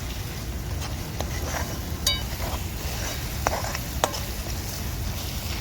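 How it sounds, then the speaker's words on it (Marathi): Chopped tomatoes cooking in a pan for kohlyachi bhaji, an ash gourd curry, give a steady, even sizzle with a few sharp clicks of a utensil against the pan. "टमाटरला मी दोन मिनटं शिजवून घेणार आहे"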